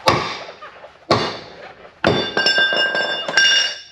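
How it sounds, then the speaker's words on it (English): A hammer strikes a part of a 1973 Jaguar XKE during restoration, four sharp metallic blows spaced about a second apart, the last two with a bright ringing tail. "try a little bit bigger hammer"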